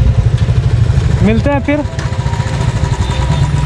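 A motorcycle engine idles close by, giving a loud, steady low rumble that runs the whole time, while someone speaks briefly over it.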